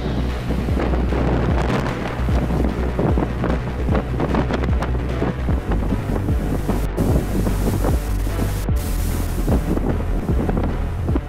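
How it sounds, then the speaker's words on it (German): Storm waves some 8 metres high sweep over a car-laden cargo ship in the Sea of Japan, a continuous loud roar of wind and surging water with heavy buffeting rumble throughout. "Dieser mit Autos beladene Frachter geriet in einen Sturm. 8 Meter hohe Wellen fegten über das Schiff"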